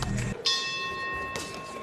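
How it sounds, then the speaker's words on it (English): A boxing round bell rings out in a women's super flyweight bout, a bright sustained metallic tone that starts sharply and rings on, with a second strike near the end over crowd and commentary noise. "10 seconds for the bell."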